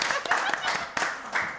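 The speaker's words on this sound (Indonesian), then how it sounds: "Tepuk tangan." An audience claps in a brief, loud burst of several quick rapid claps, with talking mixed in underneath.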